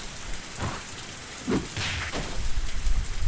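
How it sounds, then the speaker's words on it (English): Steady rain falls on surfaces in a dense hiss, with soft low rumbles and occasional heavier splashes, a tense storm atmosphere with no voices. "Only the sound of the rain filled this tense moment."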